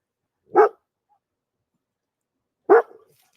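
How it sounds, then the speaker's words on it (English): Two single dog barks, sharp and close, separated by about two seconds of silence. "her dogs are barking now"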